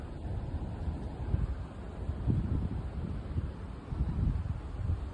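Wind blowing outdoors, a steady low rumbling roar buffeting the microphone with gusts rising and falling throughout, no voices.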